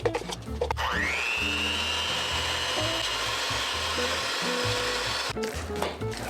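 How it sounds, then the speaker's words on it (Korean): Mascarpone cheese is blended into tiramisu cream with an electric mixer, a steady close whirring drone with a rising whine as it starts, running continuously before briefly easing near the end. "이제 여기 마스카포네 치즈를 넣어서 섞어줍니다."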